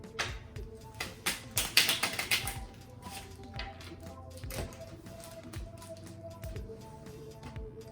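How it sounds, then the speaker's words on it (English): A quick burst of crisp playing-card riffling and tapping near the start, then softer scattered clicks and light handling sounds, close by with no talking, during a board game. "The rest of the cards, you're going to shuffle."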